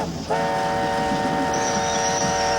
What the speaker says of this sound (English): Puffer continued whistling urgently as he came into Uptown Dock